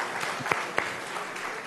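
Brief burst of audience applause at the ATECH 2017 conference, a soft wash of scattered clapping with a couple of sharper claps standing out, fading quickly.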